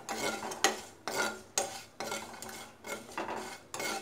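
A spoon stirs cumin and dry coconut frying in a pan for mushroom masala curry. It scrapes against the pan in roughly regular strokes, about eight in four seconds, close and moderately loud. Only a faint sizzle sits beneath the scraping.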